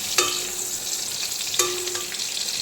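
Pointed gourd (potol) frying in oil in a pan, a steady bright sizzle with two sharp spatula scrapes against the metal pan, close and fairly loud, no talking.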